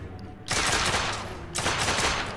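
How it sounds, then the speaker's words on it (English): Gunfire from The Order: 1886 bursts in as loud, rapid automatic fire, with two sustained volleys of dense shots separated by a short dip, and no talk over it. "Stop shooting me! I need to reload! As I shoot."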